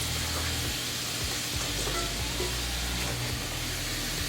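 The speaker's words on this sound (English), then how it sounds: "Now that I added these vegetables to the pan, I turned the heat up a little bit" Vegetables hit a hot skillet already cooking garlic and onions, giving a loud, steady sizzle and crackle of frying that fills the whole stretch.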